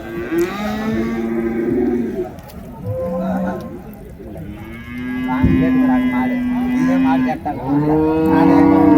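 Native bulls at the Uthangarai cattle market in Krishnagiri, India moo repeatedly, long low drawn-out calls close by, one after another with barely a pause.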